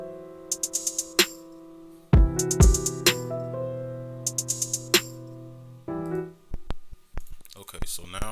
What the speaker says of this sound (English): we can listen to it with the piano real quick